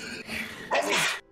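A single loud sneeze, with a short inhaled build-up followed by a sharp explosive burst, heard close and alone during a tabletop role-playing game session.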